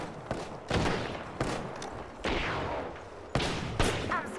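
Video game gunfire crackles in several bursts, sharp volleys and scattered shots mixed with explosions and chaotic battle noise.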